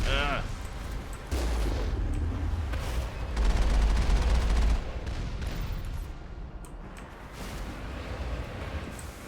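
Missiles fire in the Mass Effect game as a rapid volley of heavy booming blasts and explosions. The barrage comes loud at first, then settles into rumbling, scattered detonations.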